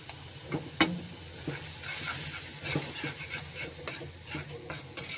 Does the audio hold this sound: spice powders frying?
yes